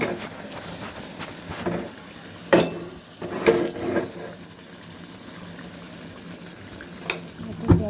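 Fish fries in a pan in a home kitchen, a soft, steady sizzle and bubbling broken by a few sharp clinks and scrapes, with faint voices in the background.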